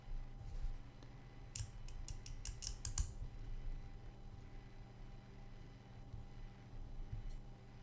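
A miniature Necron conversion piece is trimmed with a hobby tool, giving a short burst of about seven faint, quick clicks and snips over a low background hum, followed by one lone click later.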